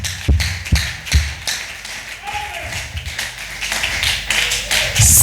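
Church congregation clapping hands, loud sharp claps in a loose irregular rhythm, close and punchy, mixed with voices speaking and calling out over a steady background.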